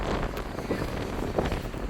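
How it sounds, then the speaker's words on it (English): Steady wind buffets a camera microphone outdoors above the Neckar River in Heidelberg, a continuous low rumbling roar with small gusty swells throughout. "It's a bit windy here, so I better hold on to this big wide camera."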